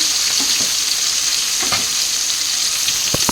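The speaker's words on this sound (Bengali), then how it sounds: "এই যে ভাজতে বসিয়ে দিয়েছি আর সেটাই তোমাদের সাথে শেয়ার করছি এটা হচ্ছে কাতলা মাছ" Katla fish fry in hot oil with a loud, continuous sizzle and crackle, broken by a few soft pops and stirring sounds.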